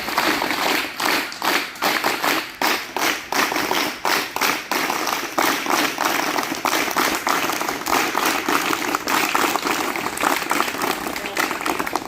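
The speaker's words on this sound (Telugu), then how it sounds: "క్లాప్స్ కొట్టి వాళ్ళని వెల్కమ్ చేద్దాం" Students at a ZPHS high school in Vaddepalli village, Nizamabad district, clap together to welcome former pupils, a loud, continuous crowd applause with rapid sharp hand claps throughout.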